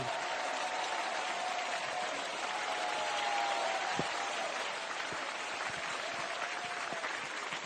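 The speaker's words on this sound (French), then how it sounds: "Applaudissez longuement cette jeune fille" Studio audience on a French television variety show applauds steadily, a dense, even wash of many hands that holds at moderate volume throughout without breaking.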